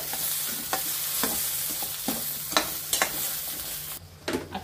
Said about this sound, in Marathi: कांदा कोलंबीमध्ये चांगलं आपण हे परतून घेऊया